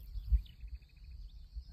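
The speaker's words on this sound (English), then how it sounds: "It's a nightingale." A nightingale sings in the Marais Poitevin countryside of France. It gives a quick, faint run of repeated clear notes over a low background rumble, with a thin insect hiss above.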